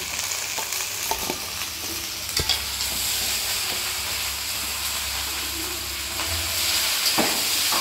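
Cubed onion goes into a pan of simmering chilli chicken sauce, giving a steady close sizzle and hiss with occasional scraping stirs and light clinks.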